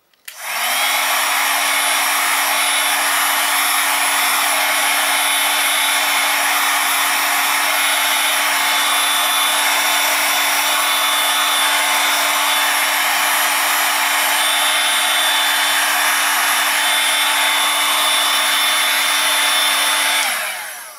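A heat gun blows steadily and loudly for about twenty seconds while a plastic sheet is turned under it to heat it evenly for bending, a constant whooshing roar with a steady motor hum and no talking.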